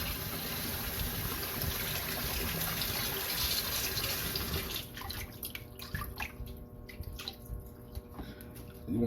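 Oxtail pieces are rinsed under a running tap, giving a steady rush of water that turns into lighter splashing and dripping as the pieces are handled. Nobody speaks.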